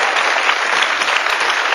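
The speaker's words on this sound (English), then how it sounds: "if you want to clap it, clap it." A studio audience at a live talk show breaks into loud, dense applause that stays steady and even from start to finish, with no voices above it.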